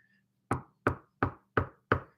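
Five sharp knocks on a door in an even, unhurried rhythm, each a hard wooden rap with a short decay, close and clear over a faint low hum.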